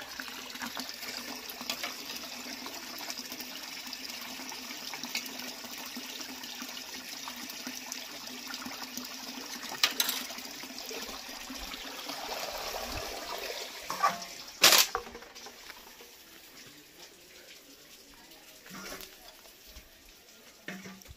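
Water runs steadily from a tap at home while dishes are washed, a soft continuous hiss with occasional clinks and bumps, faint in the background.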